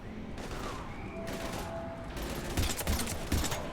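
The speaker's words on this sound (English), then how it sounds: "We're taking heavy fire." Gunfire in the video game Mass Effect 3, heard as dense, continuous shooting over a steady battle din, with louder bursts near the end.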